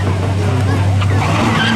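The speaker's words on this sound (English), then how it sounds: "Whitney with the jump in the Chevy Camaro. Annihilates the Mazda on the start." Chevy Camaro launching against a Mazda at a street-legal spectator drag race, loud engine roar with rising revs and tire noise at the start, a commentator talking over it.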